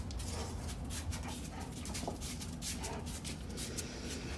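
A dog whimpers and shuffles beside a house, with faint, uneven whines and scrabbling heard close by against a steady background hiss.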